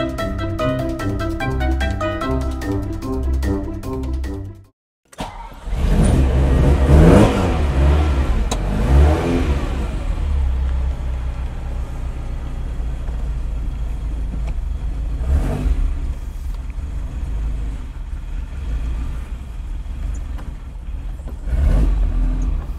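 A Dino sports car driven on the road, its engine revving and accelerating loudly up close after a brief burst of music, then settling into a steady cruising drone with occasional swells.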